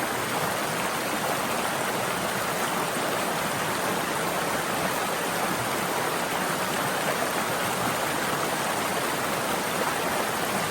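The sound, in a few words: brook cascading down over rocks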